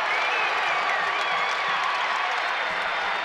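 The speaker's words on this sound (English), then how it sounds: "Been a spirited crowd at Diddle Arena this evening, and they can taste it." Basketball crowd at Diddle Arena during Old Dominion at Western Kentucky: a steady, dense roar of cheering and applause filling the arena, continuous and loud, with a faint whistle-like tone riding above it.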